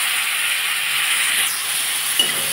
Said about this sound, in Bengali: শুকনো মশলাতে এই জন্য সামান্য একটু জল দেবো,